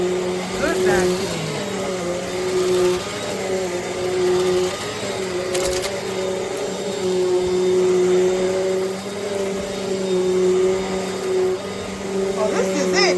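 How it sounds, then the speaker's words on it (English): A Eureka NEU10AE5 bagless upright vacuum cleaner runs on carpet with a loud, steady motor whine and hum held close for the whole stretch, shifting slightly as it is pushed back and forth. "This is good vacuum."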